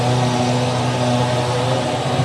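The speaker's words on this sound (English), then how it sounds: "I think the Ferrari engine is probably one of the most glorious ones to listen to." At the 2007 French Grand Prix, a Ferrari Formula 1 engine runs in the garage as a loud, steady, buzzing drone, close and continuous throughout, with no talking.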